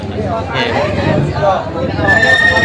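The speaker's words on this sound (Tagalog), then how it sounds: "Kabayo dito." A horse neighs at a livestock market in Padre Garcia, Batangas, a high whinny rising out of crowd chatter and nearby talking, with market babble continuing throughout.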